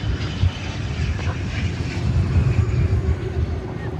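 A Frontier Airlines jet at Dallas Fort Worth airport rumbles steadily and loudly nearby, a broad continuous engine roar with no pauses.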